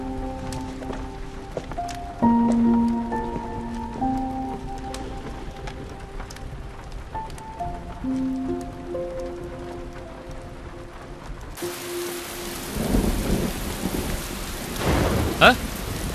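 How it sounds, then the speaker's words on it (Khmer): Rain begins falling after a quiet musical passage, a steady heavy hiss of rain on surfaces mixed with low thunder rumble, with no talking. "មើលទៅភ្លៀងចង់រៀងហើយ"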